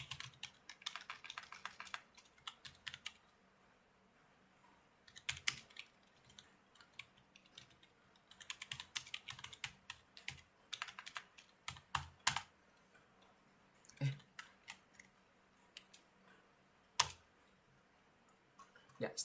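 Computer keys typed in several quick bursts on a keyboard, with pauses between them and a few sharper single key strikes standing out, close and fairly quiet with no talking.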